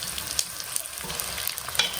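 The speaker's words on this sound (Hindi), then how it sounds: "इस तरह का हमने इसको फ्राई करना है।" Boondi fries in desi ghee in a kadhai, giving a steady, close crackling sizzle with small pops throughout and no voices.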